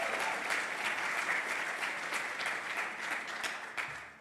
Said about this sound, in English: So if we could have another round of applause for Cheryl.